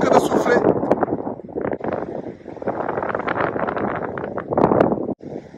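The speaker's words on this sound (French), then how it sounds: "ce vent fort qui est en train de souffler" Strong wind blowing outdoors on a gusty Saturday: dense rushing and buffeting across the microphone, loud and continuous with surging gusts, under what seems to be speech, then cutting off abruptly near the end.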